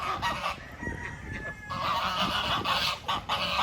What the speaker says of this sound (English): there's 2 male ducks fighting